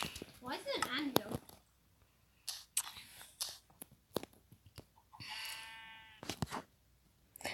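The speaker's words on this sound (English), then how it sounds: "Rainbow sheeps." Bleating of rainbow sheep in a video game, a few short cries under people chatting, mixed with quick clicks and small game noises.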